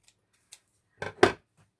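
Scissors snip wired holiday ribbon where it hooks, a faint tick followed by two quick close crisp cuts in a quiet room.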